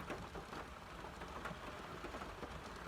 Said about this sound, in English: I saw it start to rain harder